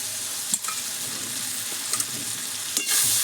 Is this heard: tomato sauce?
yes